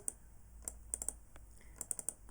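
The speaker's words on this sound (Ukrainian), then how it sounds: "Тобто я клацаю двічі на кожному полі" Computer mouse double-clicking while selecting fields in a database query, crisp close clicks arriving in quick pairs with short pauses between them, in a quiet room.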